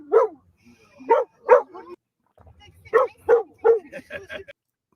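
Dogs at a dog park bark in a run of sharp, uneven yaps and woofs, a couple of quick bursts, a pause, then a denser cluster with a yip at the end, fairly close and loud with faint background murmur.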